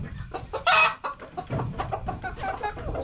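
Chickens clucking and squawking in a flock of about seventy-one birds as they are handled and moved into a new coop at night, a busy, close, continuous chatter with one louder burst of alarmed squawks.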